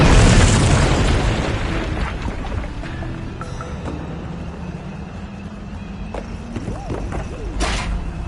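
Bomb explosion in the video game We Happy Few: a loud opening boom that decays into a long rumbling, crackling tail, with scattered smaller pops and knocks fading into the background.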